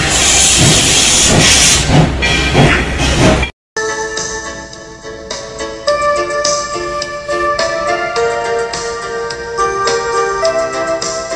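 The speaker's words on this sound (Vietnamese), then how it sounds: "đoàn tàu đã chuyển bánh." A historic steam train near Snoqualmie Falls starts to move, letting out a loud, close burst of hissing steam that cuts off abruptly and gives way to quieter clanks and tonal ringing.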